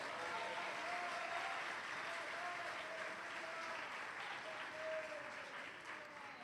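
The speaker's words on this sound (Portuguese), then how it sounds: "Você pode aplaudir ao Senhor?" A church congregation applauding during a sermon, a fairly faint, steady wash of clapping heard from a distance, continuous with no clear individual claps and no speech over it.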